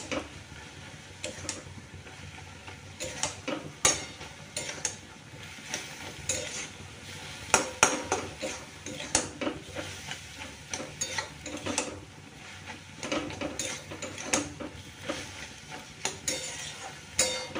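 Okra and chilli are stirred in a pan with continual soft scraping and clicking of a spatula against metal, accompanied by a light sizzle, close and fairly quiet.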